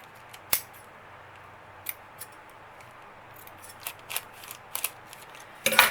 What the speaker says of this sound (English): Grab the scissors and just kind of trim that